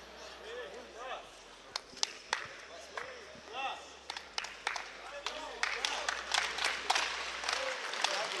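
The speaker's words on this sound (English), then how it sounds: "Crowd starting to respond" Crowd at a fight awaiting the judges' decision: a low, restless murmur of many voices with scattered claps, shouts and thuds that grow busier toward the end, while a nearby voice talks throughout.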